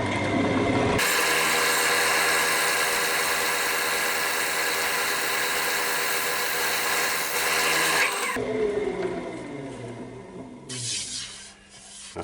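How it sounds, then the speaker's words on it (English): Spindle gouge scraping a spinning sycamore platter on a wood lathe, a steady loud rasping drone for several seconds, then easing off into quieter lathe hum and light scraping. "just using the side of the spindle gouge more or less at 90 degrees, about 85 degrees, so the bottom edge is just scraping along"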